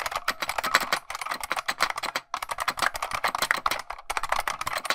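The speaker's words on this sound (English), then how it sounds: "I do have an actual recording on my computer of that keyboard" Rapid typing on a 1994 computer keyboard, a dense run of crisp key clicks with one brief pause midway, close and clear with no one speaking.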